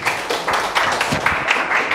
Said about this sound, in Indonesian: Silahkan berikan tepuk tangan kepada Arin dulu